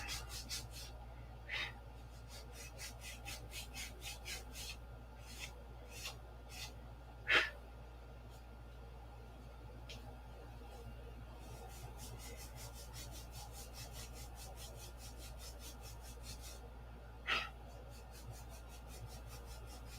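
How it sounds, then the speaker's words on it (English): A wooden stick is sanded to an angle by hand, with repeated quick rasping strokes in a steady rhythm, close and fairly quiet, broken by a couple of sharper knocks. "Take my stick, sand an angle on it"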